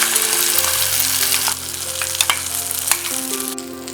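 Ground green pea paste with ginger paste fries in a wok, a steady loud sizzle with scraping stirs and a few sharp clinks of the spatula; no one speaks.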